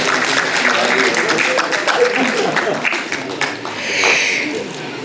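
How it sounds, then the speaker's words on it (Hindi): Audience applause at a theatre workshop event, dense steady clapping from a room of people throughout, with a voice briefly heard near the end. "जनाब निसार नसीम साहब के लिए एक और बार तालियां हो जाएं।"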